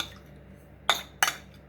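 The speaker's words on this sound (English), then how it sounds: "let's give it a little mix first" A utensil clinks twice against a mixing bowl as dry ingredients are stirred before butter goes in, two short sharp knocks against a faint quiet background.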